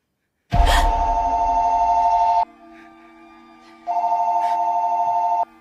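A telephone rings loud and close in a tense scene from the 2022 horror film Smile, two long electronic ring bursts separated by a short pause, with a faint low hum between them and no talking.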